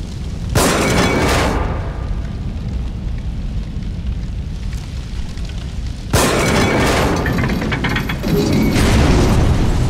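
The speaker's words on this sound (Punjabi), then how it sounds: "ਹੁਣ ਇਹ ਪਟਾਕਾ ਪੈਣਾ ਸੀ ਬਹੁਤ ਬੁਰਾ" Loud booming blasts in the video game The Evil Within, a sharp explosion near the start and another burst around the middle, each leaving a dense rumbling, crackling roar that fills the clip.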